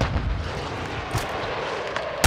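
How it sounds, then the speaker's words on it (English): A stun grenade goes off in the video game Modern Warfare 2, a loud, close blast that opens the moment, followed by a dull, rumbling ringing wash and a few faint later pops. "They're throwing a stun grenade!"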